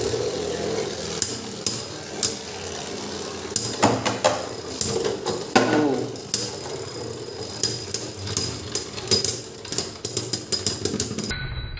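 Beyblade tops spinning and clashing in a battle arena, sharp irregular metallic clacks and rattling impacts over a continuous whirring spin, close and fairly loud, with no speech.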